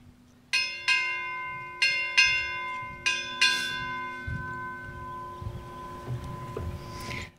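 Ship's bells ring six times at a naval change-of-command ceremony, struck in three spaced pairs with long ringing decay, clear and fairly near in a quiet setting.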